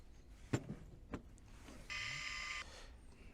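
A Haktaş HKT-518 and 8608 electric pruning shears pair gives a brief motorized whine of under a second, after two soft clicks, faint in a quiet room with no talking.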